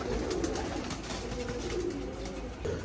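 Several pigeons coo in soft repeated low calls, overlapping continuously at close range in a loft, with no voices over them.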